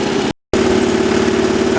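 Cub Cadet 1200 garden tractor engine running, a loud steady droning hum close by that cuts out briefly near the start and then resumes at a constant pitch.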